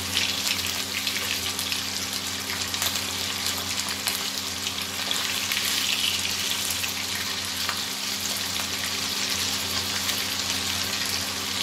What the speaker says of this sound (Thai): เราจะทอดแค่พอเหลืองนะคะไม่ถึงขนาดกรอบ